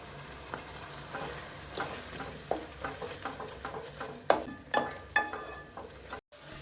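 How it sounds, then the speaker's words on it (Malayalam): Chicken sizzles softly in a pan with ginger, garlic and green chili paste, a low frying hiss punctuated by clattering stirring strokes that grow sharper toward the end, with no talk. "ചിക്കൻ ചതച്ച് വെച്ചിരിക്കുന്ന ഇഞ്ചി വെളുത്തുള്ളി പച്ചമുളകിൻ്റെ പേസ്റ്റ് നമുക്ക് ഇട്ട് കൊടുക്കാം"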